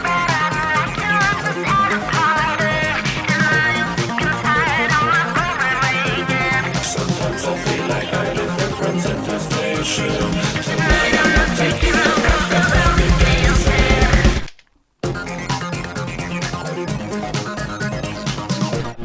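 Second verse of a metal cover song, dense distorted band with bleepy 8-bit chiptune-style synth lines and a steady shaker, loud and continuous, cutting out briefly near the end before resuming.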